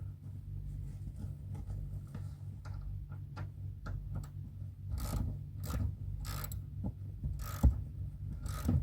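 A ratchet winds in a long bolt, about ten feet, while working on a rusty Alfa Romeo: quiet repeated clicking strokes over a low steady hum, with a few sharper, louder passes near the end.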